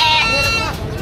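Goats bleat loudly and close by at a livestock market in the Philippines, a wavering cry that trails off into the noisy crowd in about a second.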